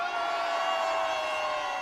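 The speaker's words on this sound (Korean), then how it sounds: "전방을 향해 함성!" A large crowd at an outdoor political rally in Gwangju roars in one sustained, loud collective shout, with many voices blending into a steady wall of cheering.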